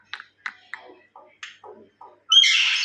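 A pet myna bird squawks in a home, giving a series of short, sharp calls and chirps in an uneven rhythm, then a longer, harsher, louder screech at the end.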